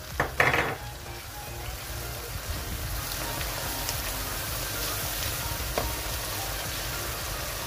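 Whole spices dropped into hot oil for a desi bottle gourd curry, giving a brief splash at the start and then a steady, dense sizzle that carries on alone throughout.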